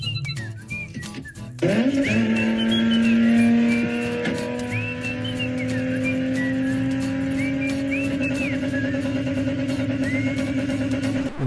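A car engine climbs and holds a steady whining tone after a sudden rise in pitch, with a high whistling note wavering above a loud, sustained drone.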